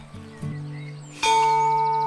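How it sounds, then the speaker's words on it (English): Doorbell in the Botany Manor video game, a single bright chime that rings out and sustains with clear overtones, following a few soft footstep-like taps and a quiet ambient background. "But should we ring the bell?"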